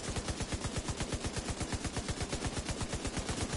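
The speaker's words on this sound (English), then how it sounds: "I'll spin up the minigun" Minigun firing in a video game, a sustained, rapid, evenly spaced stream of loud, close gunshots with no pauses.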